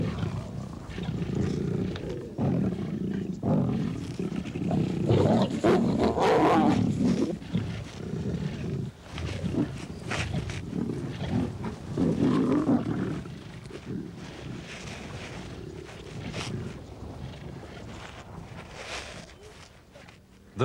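A starving pride of lions in drought country, with deep growls and snarling roars rising and falling over twenty seconds, close and loud, some rustling movement and a possible voice mixed in.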